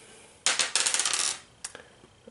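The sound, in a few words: dice being rolled for a board game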